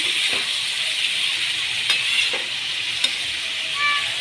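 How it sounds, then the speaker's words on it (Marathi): Vegetable curry with coriander being stirred in a pan on low gas, a soft steady sizzle with light scraping stirs and faint clicks, close and quiet with no voices. "कोथिंबीर टाकली ना आता मिक्स करू मस्त"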